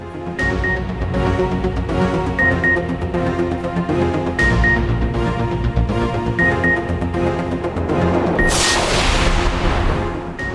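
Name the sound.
fireworks exploding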